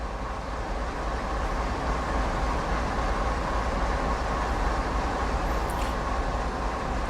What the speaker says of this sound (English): As each car passes under the chute, the loader will dispense coal until it is full.